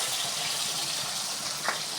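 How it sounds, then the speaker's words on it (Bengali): Goat meat frying with bay leaf in a pot, a steady close sizzle with dense spitting crackle throughout and one sharper pop near the end. "কেমন ফুটে দেখছি, ফটফট ফটফট করে।"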